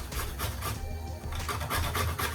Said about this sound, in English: I'm just going to go ahead and grate my nutmeg